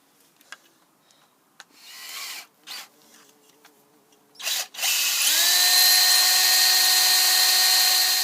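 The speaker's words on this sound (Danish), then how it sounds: "så tager du og borer et lille hul i den her plade her" An electric drill bores a small hole in a plate for a home-made electric cycle; a few short knocks and bursts of handling come first, then the drill spins up and whines steadily and loudly to the end.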